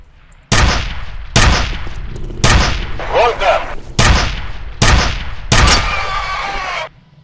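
Gunfire in the F.E.A.R. shooter game: six loud, sharp shots spaced about a second apart, each with a rumbling tail, the last ringing out longer.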